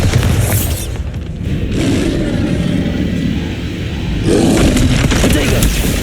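A Bombarda spell explodes against a troll in Hogwarts Legacy: a loud, deep boom that rolls on for several seconds, with a second blast rising near the end and spoken voices mixed in.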